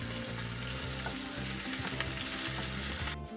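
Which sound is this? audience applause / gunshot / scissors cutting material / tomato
tomato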